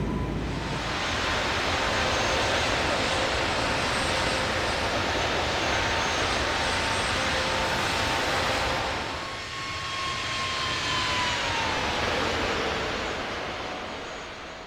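Airbus A321neo jet engines roar steadily during takeoff and climb in a flight simulator. The loud, continuous broadband thrust carries faint whining engine tones and dips briefly near the end before resuming, with no talk over it.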